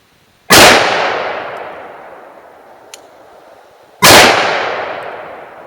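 Two loud, sharp gunshots from a Glock 20 pistol firing 9x25 Dillon rounds with 90 grain Sierra bullets outdoors, spaced several seconds apart, each followed by a long fading echo.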